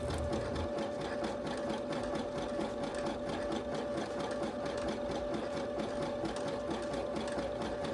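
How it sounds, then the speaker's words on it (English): A Brother CS5055 PRW computerized sewing machine running a zigzag stitch, a fast, even mechanical whir with a steady motor hum, close and continuous throughout, no speech. "Now let me show you a zigzag stitch."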